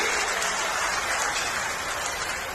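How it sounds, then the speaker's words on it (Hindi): A large crowd under a pandal at a Sanatan Manch gathering in Rohtak breaks into sustained applause welcoming a yoga guru, a dense, loud and continuous roar of clapping with no break. "तालियां बजती रहे जब तक स्वागत।"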